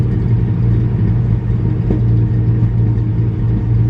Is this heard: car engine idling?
yes